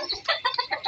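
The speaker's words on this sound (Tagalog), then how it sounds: "nandito naman tayo sa ating mga alagang manok" Pet hens on a rural provincial farm cluck close by in quick, choppy bursts, several short calls tumbling over one another in under a second.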